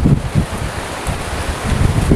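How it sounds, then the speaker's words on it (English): Strong wind gusts roar at an RV park near a beach, loud buffeting rumble with microphone wind noise throughout and no voices. "I don't know what's going on with the wind here"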